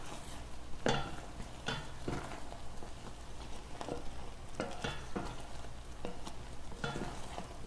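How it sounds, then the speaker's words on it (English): Caramel sauce with heavy cream boils and bubbles quietly in a pot while a utensil stirs it, giving soft scrapes and occasional clinks against the pan. "You'll want to bring this back up to a boil after adding the heavy cream."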